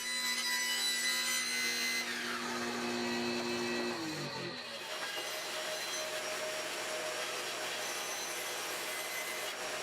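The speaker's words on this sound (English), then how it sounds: "I cut out the shape of the leg using a table saw and the bandsaw." A bandsaw cuts a leg shape from laminated wood with a steady, close whine. Its tone shifts partway through as the blade works the piece, and the machine hum continues to the end.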